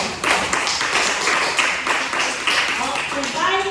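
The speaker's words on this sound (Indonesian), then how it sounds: "Tepuk tangan untuk kita" A classroom of students claps their hands together in a broad, sustained burst of overlapping claps lasting a few seconds, with voices mixed in beneath the clapping.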